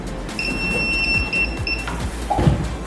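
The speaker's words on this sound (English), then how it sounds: "It gives me an instruction for the buzzer to give me an alarm." An obstacle-sensor buzzer alarm beeps in a rapid run of short, bright electronic tones from about 0.4 to 1.9 seconds, then stops, heard over a steady low background hum.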